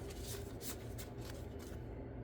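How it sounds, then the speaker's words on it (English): Tarot oracle cards being shuffled by hand, a quiet close riffle of rapid soft card flicks running steadily, then trailing off into silence. "So I'm going to pull the Moonology Oracle here real quick. And we're going to shuffle."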